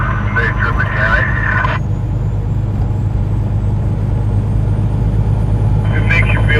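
Steady low diesel drone of a truck engine cruising at around 1200 RPM in eleventh gear, heading east in a convoy, loud and continuous throughout with occasional higher cab noise on top.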